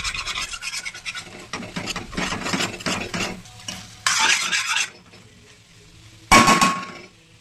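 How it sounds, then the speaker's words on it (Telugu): A spatula scrapes and stirs okra fry in a pan on high flame, with rough rasping strokes in quick bursts, a soft sizzle beneath, and a sharp metallic clang near the end. "ఇక దీన్ని ఇట్లా హై ఫ్లేమ్లో కలుపుతూ కొంచెం మధ్యలో కలుపుకుంటూ కుక్ చేయాలి"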